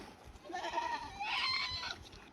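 Goats being driven through forested hills bleat nearby, with a couple of wavering calls overlapping across about two seconds against quiet outdoor background.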